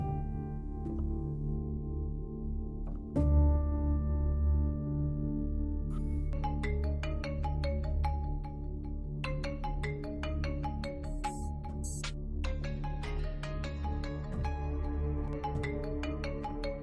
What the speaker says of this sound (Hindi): जैन साईं का फोन